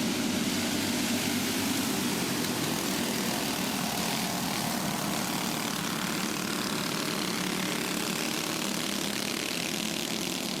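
Backyard go-karts, including handicap carts built for bigger drivers, race around a track, their small engines making a continuous distant buzzing drone that stays steady throughout.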